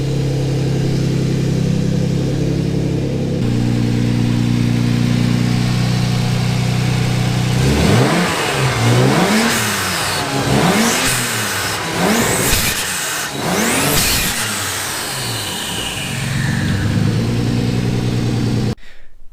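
Twin-turbo 2.9 Cosworth engine in a Ford Capri warming up, loud and close: a steady idle drone, then a run of sharp revs rising and falling in quick succession before settling back, with no talk.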